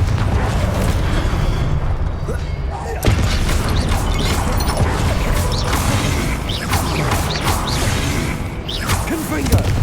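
Hogwarts Legacy combat with the Confringo blasting spell brings loud, continuous booming explosions, crashes and whooshes layered over dense action noise, with a voice shouting spell names.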